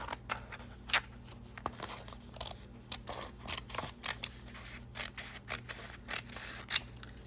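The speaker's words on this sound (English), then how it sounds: "I'm just going to cut the edge off here." Scissors snip the edge off a paper envelope pocket for a junk journal. A steady series of small, close, quiet cuts and paper rustles follows one after another, with no talking.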